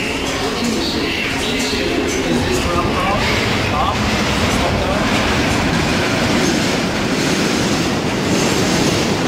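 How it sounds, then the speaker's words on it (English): A subway train arriving at a station, a loud steady rumble with rattling wheels and some squeal that fills the whole clip, with people's voices mixed in under the noise. "Hey, the train coming."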